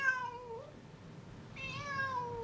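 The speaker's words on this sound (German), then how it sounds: "Das ist ja ein Katzerl." A cat meows twice in an indoor living room, each call drawn-out and tonal with a falling pitch, close and clear with a short pause between them, over faint room hum and no talk.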